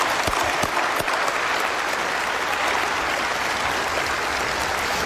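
A graduation crowd at a 2020 West high school ceremony gives a round of applause for retiring staff, a dense, steady wash of clapping that stays loud and even from start to finish.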